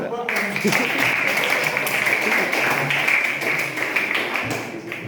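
A classroom full of students claps together in a long, dense burst of applause that stays steady and fairly loud, with some voices mixed in.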